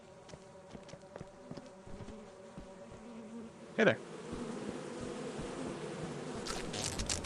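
Buzzing of a bee swarm in the video game Lethal Company hums steadily under a short spoken greeting, with scattered clicks and a brief louder burst partway through.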